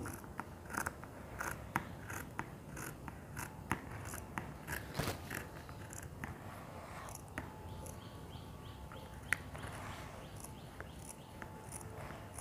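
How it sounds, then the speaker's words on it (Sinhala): Scissors snipping through coarse fabric for an A-line frock, the cutting yellow-marked sleeve pieces front and back, a steady run of small crisp clicks and blade chews close by with no talking. "දැන් මම ඉදිරිපසයි පිටිපසයි දෙකම කැපෙනවා"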